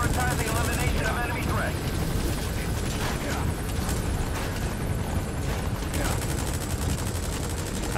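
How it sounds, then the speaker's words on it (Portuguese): In the video game Metal Gear Solid V, a helicopter's thudding rotor drones continuously beneath bursts of rapid gunfire, with dense, loud, chaotic combat noise throughout. "o helicóptero me viu"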